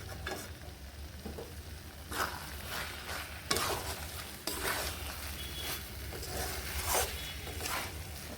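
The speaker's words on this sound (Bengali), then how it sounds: "ঢাকা খুলে এইভাবে নেড়ে নিচ্ছি এবার আমি এখানে ঘি দিয়ে নিচ্ছি" Cauliflower curry with ghee sizzling in a pan as a spoon stirs it, steady frying hiss with repeated scraping strokes and occasional utensil clinks against the pan, close and continuous without talk.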